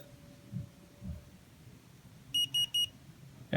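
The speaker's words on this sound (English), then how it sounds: "You'll hear the beeps after it's initialized" A Removu K1 unit gives three short, evenly spaced high beeps right after initializing, clear against a quiet room hum.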